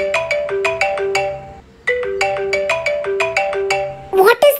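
A telephone ringing in a hotel room while calling reception, a loud repeating electronic melodic ringtone in two rhythmic bursts with a short pause between them, ending as a voice speaks.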